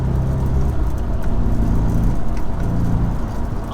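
An Audi S4 B6 accelerating hard in first gear, a loud, close, continuous engine drone with a rising low growl, heard from inside without talk.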